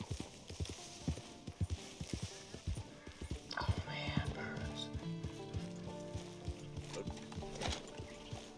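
Horse hooves in the video game Red Dead Redemption 2 clip-clop in a steady walking rhythm, joined by tack jingles and game ambience, with a voice talking briefly at a distance.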